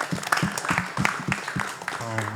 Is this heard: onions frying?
no